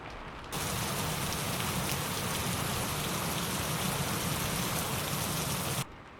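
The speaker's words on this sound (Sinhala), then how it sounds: "දැන් වැටෙට්ටාවින් ඇහෙන්නේ වර්ෂාවේ ශබ්දේ විතරයි." Heavy rain pounds steadily around a parked three-wheeler, a dense, loud, continuous hiss that starts abruptly and cuts off near the end, with no voices.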